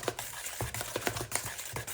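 A spoon beats eggs and vanilla into a chocolate cake batter in a bowl, giving quick rhythmic close scraping and tapping strokes at an even pace with no voices.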